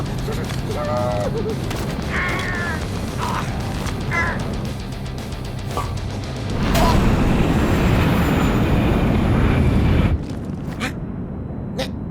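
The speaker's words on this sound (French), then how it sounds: "l'avion vole à 900 km/h" In an animated cartoon, an airplane flying at 900 km/h roars loudly for a few seconds midway, after crows caw several times earlier over a steady background.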